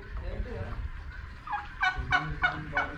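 A bird calls at a family park, with a run of four or five short, sharp bursts in a quick rhythm, moderately near, over a low outdoor rumble.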